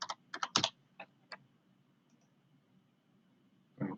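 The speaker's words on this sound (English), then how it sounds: "I typed in 32547" A computer keyboard clicks out a quick burst of five or six keystrokes as a zip code is typed, followed by a pause and one final keypress, close and quiet.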